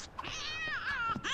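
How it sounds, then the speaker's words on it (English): A cat in The Sims 2 video game meows in short, close, clear cries, with rising and falling harmonic tones in quick succession. "Meow!"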